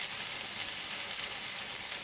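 Turkey patties sizzle steadily in a hot frying pan, a bright, even crackling hiss of oil with no breaks, close and fairly quiet, heard on its own without talking.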